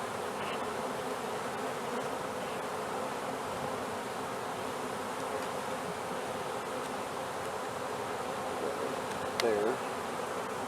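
Swarm of honey bees buzzing around comb from a swarm catch, a dense steady drone filling the whole stretch at close range with a brief louder rise near the end.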